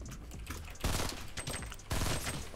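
Burst-fire rifle shots in a video game, two or three quick clusters of sharp cracks spaced about a second apart, fairly loud with no talk over them.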